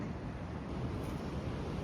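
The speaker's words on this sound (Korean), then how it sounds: "파도 치는 것 때문에" Ocean surf on the Sokcho coast of Korea rolls in as a continuous low rumbling wash mixed with wind buffeting the microphone.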